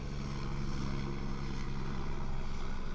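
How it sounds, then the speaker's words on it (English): A helicopter passes overhead as a steady, loud rotor and engine drone that fills the whole clip without a break, with no talking. "We let this chopper go overhead."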